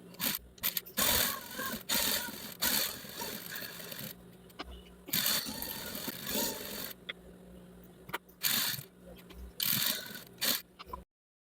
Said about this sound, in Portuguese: Vou passar um pezinho de máquina de costura em volta inteira aqui do tapete para dar um reforço.